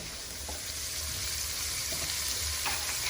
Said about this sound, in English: we're going to start to saute the onions